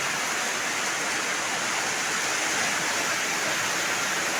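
Heavy rain pours down in a dense, unbroken hiss that holds at an even, moderate loudness throughout, with no voices over it.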